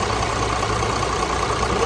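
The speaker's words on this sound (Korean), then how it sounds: "엔진 소리 한번 들려드리려고" A 2015 five-ton Euro 6 diesel garbage dump truck engine, with 150,000 km, idles steadily with a low, rumbling drone and a rough, knocking texture, close by and continuous, with no talking.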